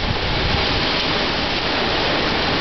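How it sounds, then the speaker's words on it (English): Hail pelts down during an unnamed low-pressure tropical storm, making a dense, loud, continuous hiss and patter close by with no gaps and no voices. "oh, there's hail. That's highly unusual."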